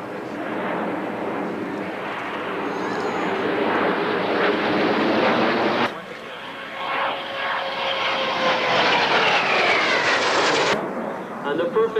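Airshow display team aircraft fly past with a loud, sustained engine roar that swells and shifts in pitch as they pass overhead, under a commentator's voice.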